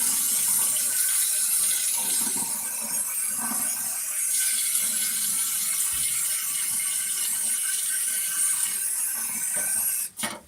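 Hot water pours steadily from a kitchen tap while a meal is being cooked, a continuous hissing rush that runs close and unbroken for about ten seconds before cutting off abruptly near the end.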